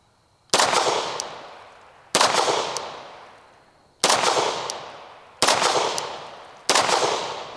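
Five loud, sharp gunshots from a 3D-printed PLA Plus pistol built to FEG spec, fired one at a time at spaced intervals, each crack trailing off in a long outdoor echo, no talking.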